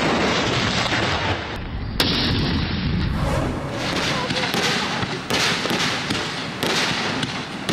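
Booming 21-gun artillery salute rounds crack and echo repeatedly for Pakistan's Independence Day, loud and spaced irregularly, with a news presenter talking over them in Urdu.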